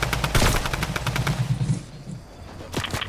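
Rapid bursts of automatic gunfire from the video game Fortnite, a loud fast string of shots in the first second and a half, then a brief pause before more shots at the end.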